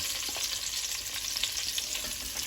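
Chopped onions sizzling in a hot pan for braised steak, a dense, even crackle and hiss close by with no talking.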